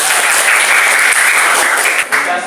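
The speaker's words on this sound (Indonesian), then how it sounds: "tepuk tangan dulu hiburan" A crowd claps steadily and loudly for a few seconds, a dense continuous patter of many hands.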